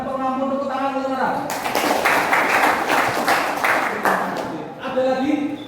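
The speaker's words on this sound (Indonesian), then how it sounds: "Tepuk tangan dulu, Nara." Students clap together in a classroom, a few seconds of brisk rhythmic bursts set between stretches of a voice talking before and after.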